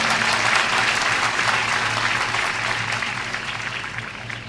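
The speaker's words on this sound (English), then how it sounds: "So big clapping for parents because they have made us." A crowd at a university convocation ceremony applauds steadily, a dense wash of many hands clapping that fades slightly toward the end.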